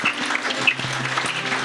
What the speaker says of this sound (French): Est-ce qu'on peut donner une bonne main d'applaudissement au Seigneur?